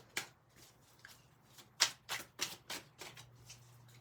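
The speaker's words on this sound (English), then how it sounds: "Let's shuffle the deck and let's get straight into it." A tarot card deck being shuffled by hand, with a quick series of soft riffling bursts and card slaps close by in a quiet room.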